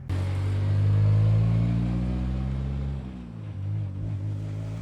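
Race cars driving on a track during a time attack event, with a loud steady engine drone and rumble that swells, then drops slightly as a car passes by.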